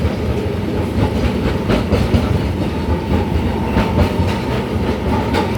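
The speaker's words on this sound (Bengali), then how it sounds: "ট্রামের টুংটাং আওয়াজ, এটা খুব ভালো লাগে।" A tram rolls along its tracks, filling the whole stretch with a steady, loud clickety-clack of wheels and rattling carriage noise. No bell stands out clearly, and no one speaks.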